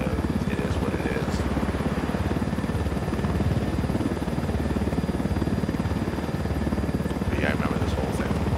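A large helicopter in the video game Ghost Recon Wildlands holds a constant, heavy rotor drone with a low buzz throughout, loud and near, with faint voices over it.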